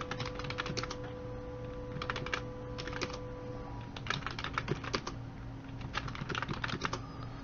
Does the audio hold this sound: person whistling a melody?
no